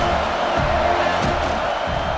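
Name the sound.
stadium crowd cheering in a football video game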